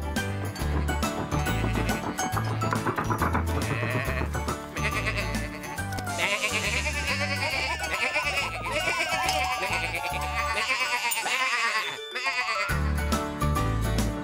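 Sheep bleat repeatedly over steady, busy background music in a children's cartoon, the wavering calls rising and falling throughout.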